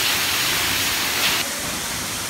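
A waterfall at the base of high rocks on a hiking trail gives a steady, loud rushing hiss of falling water that holds without a break and eases slightly near the end, with no voices.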